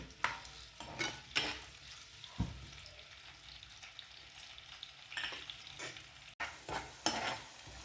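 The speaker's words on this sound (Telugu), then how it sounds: "కట్ చేసి పెట్టుకుని ఉల్లిపాయలు, పచ్చిమిర్చి వేసుకుని ఫ్రై చేసుకుందాం" Onions and green chillies fry in a pan with a soft, quiet sizzle, broken by several sharp scrapes and knocks of a spoon stirring them, close with no voices.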